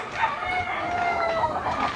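Chickens and roosters on a small poultry farm cluck and crow close by, a rooster's drawn-out call rising over steady clucking for a couple of seconds.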